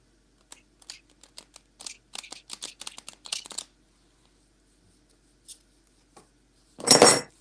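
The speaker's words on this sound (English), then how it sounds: "we shuffle the deck 3 times" A deck of cards shuffled, quick riffling flutters and clicks in short bursts, ending in one louder closing rush of cards, close by with no talk.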